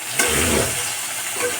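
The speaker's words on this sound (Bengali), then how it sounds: "সবজিগুলা ভেজে নেওয়া হচ্ছে" Potato, eggplant and taro pieces fry in oil, a soft steady hiss with a faint stir near the start.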